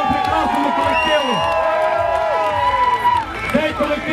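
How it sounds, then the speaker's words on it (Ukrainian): Crowd clapping and cheering for a performing troupe at a Malanka folk celebration, a dense steady wash of applause with whoops and voices mixed in. "Ще раз, будь ласка, оплески цьому прекрасному колективу."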